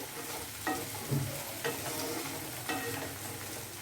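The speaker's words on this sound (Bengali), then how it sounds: "পেঁয়াজটা একটু লালচে করেই ভেজে নেব" Onion frying in a pan until reddish for a green potato dum, with a soft continuous sizzle and a few separate stirring scrapes, close but quiet.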